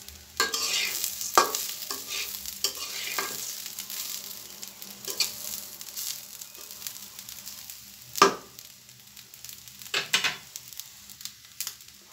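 Broken rice with salt and turmeric is stirred in a pan, with quiet frying beneath and a series of irregular, close scraping strokes of the spoon against the pan, some louder than others.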